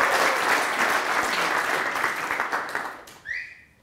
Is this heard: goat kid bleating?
no